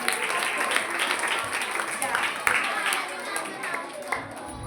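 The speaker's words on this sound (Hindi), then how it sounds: "जोरदार ताली हमारे अतिथियों के लिए।" Steady applause from the audience greeting guests at a Shrimad Bhagavat Katha gathering in Panchkula, continuous crowd clapping at moderate level with a voice speaking over it.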